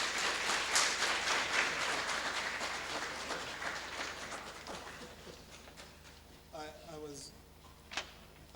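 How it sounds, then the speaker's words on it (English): Audience applause for the guest of honor, a deputy minister of finance, at an actuarial society convention in Zimbabwe, dense clapping that gradually thins and fades, followed by a few voices and scattered handling noises. "a round of applause."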